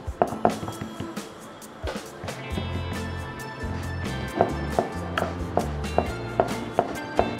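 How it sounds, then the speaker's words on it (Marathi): Hands pat fasting paratha dough flat on a floured surface, giving soft irregular slaps and thuds against a low background hum, with no one talking. "असं पिठाचा हात घेऊन थोडं थापून घेऊयात."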